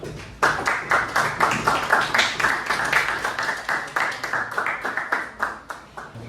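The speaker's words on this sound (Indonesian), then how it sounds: "boleh ya kita beri tepuk tangan nih untuk kelompoknya David ya" Classroom applause for a presenting student group, many hands clapping together in a steady, dense patter that starts abruptly and continues for several seconds before easing slightly, fairly close and loud.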